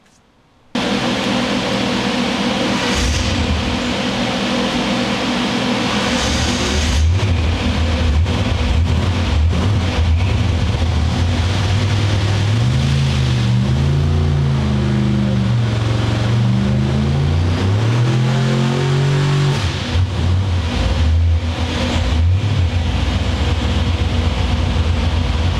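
A blow-through carbureted engine making around 1200 horsepower roars loudly and steadily on a dynamometer during a sweep test, its pitch climbing and wavering as it revs, sustained close up for most of the run with no talk.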